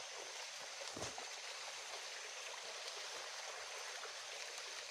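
A river flows in a steady, continuous rush of water, loud and close, with no voices over the constant broadband wash.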